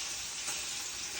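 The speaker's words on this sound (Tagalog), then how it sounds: "Nagpiprito ako ng" Chicken frying in hot oil gives a steady, dense sizzle and hiss, close and even throughout with no voices.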